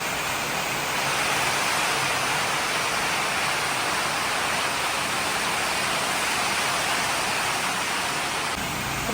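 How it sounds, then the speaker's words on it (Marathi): Lots of flowing water rushes in a steady, loud broadband roar that stays constant and close for the whole stretch, with no voices over it. "पाणी तर एवढं होतं तुम्ही आता आवाज ऐका"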